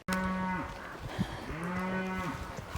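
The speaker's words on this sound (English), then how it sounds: "Do you guys hear the cows?" Cows moo loudly and close by, long drawn-out lowing calls that overlap one another, with steady outdoor background noise.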